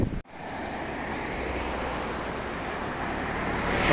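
Sea waves rushing in a continuous roar mixed with wind at the coast of Castellammare di Stabia, Italy, swelling slightly louder toward the end.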